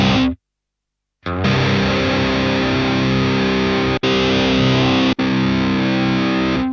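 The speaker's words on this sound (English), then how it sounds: "this will be our distortion" Heavily distorted electric guitar chords from an Eleven Rack distortion patch ring out loud and sustained after a brief silence, with two short breaks between thick, saturated strums.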